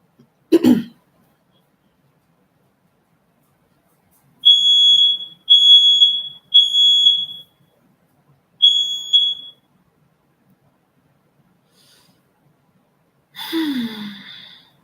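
A household smoke alarm chirps four times in a steady, evenly spaced run of high, shrill beeps, with a short breathy sigh or throat noise just before and a cough-like sound after, in an otherwise quiet room.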